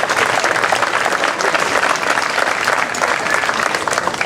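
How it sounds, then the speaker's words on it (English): A crowd at a House of Hungary event gives the volunteers a big round of applause, loud sustained clapping from many hands that continues evenly throughout. "let's give them a big, huge round of applause"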